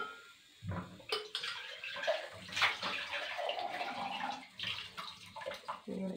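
Water poured into a pot of Sri Lankan drumstick curry, a close, uneven gushing and gurgling splash that lasts several seconds with small bursts along the way.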